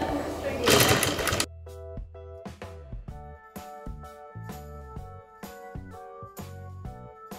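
A sewing machine stitches a folded fabric edge to the main fabric for piping, giving a short, loud, dense whirring burst at the start. Then comes a run of bright, plucked-sounding tonal notes.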